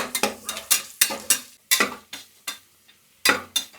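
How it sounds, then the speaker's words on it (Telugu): Onions frying in oil with spices and curry leaves for a village-style goat head curry, heard as a run of close, irregular stirring scrapes and sizzling bursts separated by short pauses. "ఎర్రగడ్డలు అయితే బాగా ఏగిపోయినాయి"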